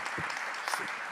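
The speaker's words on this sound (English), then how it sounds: "Maybe another round of applause for our second round of responses." Audience applause at a conference plenary session, a steady wash of clapping from a seated crowd, fairly loud and continuous throughout.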